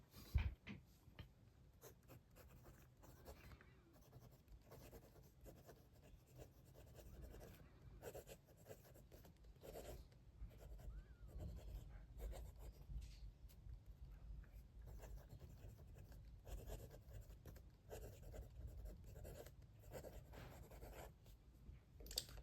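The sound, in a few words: Lamy Balloon fountain pen, steel fine nib, writing on paper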